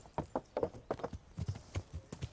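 A horse's hooves clip-clop in a quick, even rhythm in the video game Kingdom Come: Deliverance, fairly faint with no voices over them.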